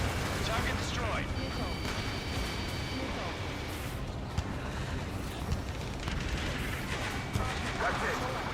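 Air strike explosions in the jet combat game Ace Combat 7, heavy booms and rumbling blasts rolling over one another in a dense, loud barrage with radio-style voices talking across them.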